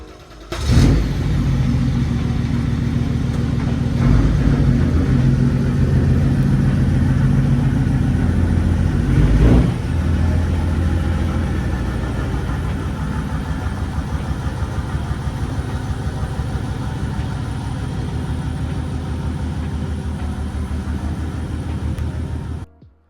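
A car engine idles and runs steadily at close range in a garage as vehicles are moved out, a continuous low rumble with a few sharp knocks and a slight drop in level partway through, no talk.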